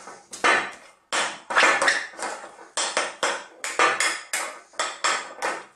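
A utensil clinks and scrapes against a bowl while horseradish cream sauce with English mustard is stirred, giving a steady rhythm of sharp, close, fairly loud knocks about twice a second with no talking.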